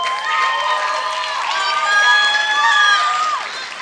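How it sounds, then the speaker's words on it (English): A dance-show audience at a school Winterfest cheers, whoops and shouts for the dancers, a loud, steady crowd roar with high voices rising over it throughout. "Let's give them all another round of applause."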